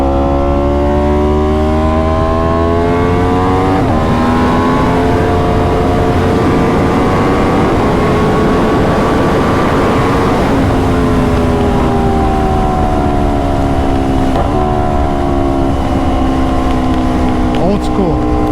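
An Aprilia RSV4 motorcycle engine revs hard while riding, loud and close, climbing through gears with quick shifts and blips, pitch rising and dropping repeatedly over a constant wind roar.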